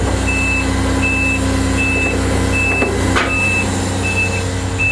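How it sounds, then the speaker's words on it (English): Fire truck aerial outriggers deploying, regular warning beeps repeating about every second over a loud steady truck engine hum, with a brief hiss of air near the middle. "switch and we'll deploy our outriggers out"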